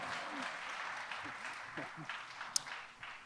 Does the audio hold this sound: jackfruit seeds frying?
no